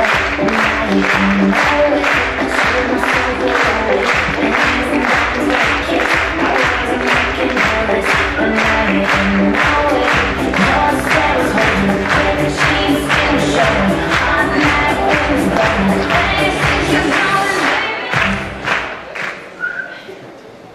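Loud, sustained audience applause at a sports awards night as athletes leave the stage, dense rhythmic clapping with whistles and cheering that fades out near the end.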